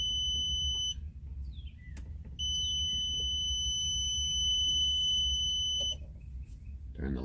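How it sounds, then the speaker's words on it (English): A high electronic beep tone from a Suzuki Samurai's in-dash radio sounds continuously, cuts out briefly as the lights are switched, then resumes for several seconds over a low rumbling hum. "Turn the lights off, pretty little beep."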